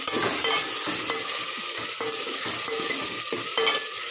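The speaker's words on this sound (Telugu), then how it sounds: "మనము టమాటా పేస్ట్ కూడా బాగా ఫ్రై కావాలి" Tomato paste fries in a pan for an egg pulusu, a steady sizzle running throughout with repeated scraping stirs of a spoon at regular intervals, close and fairly loud, with no voices.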